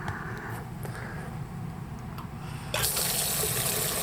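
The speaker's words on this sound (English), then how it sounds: "I'm going to turn on the aspirator now" A water aspirator on a lab tap is switched on, starting with faint background hum and a few small clicks, then a sudden loud rush of running water that holds steady to the end.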